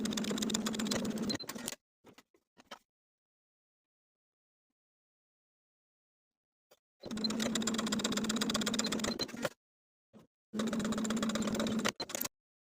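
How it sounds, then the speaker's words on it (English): Sewing machine stitching vertical tuck lines into fabric rectangles for a sleeveless V-neck top, running in three steady bursts with quiet pauses and small clicks between them. "Then sewing those vertical lines for each set of rectangles one at a time"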